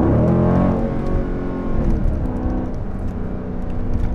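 Dodge Durango SRT engine in track mode, revving hard and running up through the gears with a loud, continuous roar and brief dips at the shifts, heard from inside the vehicle with no talking.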